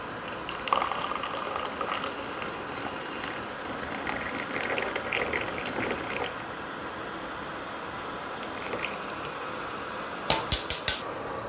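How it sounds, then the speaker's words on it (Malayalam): One cup of water poured into a second cooking pot while making tea, giving a steady, splashy running pour for several seconds, followed by a few sharp metallic clinks of the pot near the end. "അതിൽ 1 കപ്പ് വെള്ളം ഒഴിച്ച് കൊടുത്തിട്ടുണ്ട്"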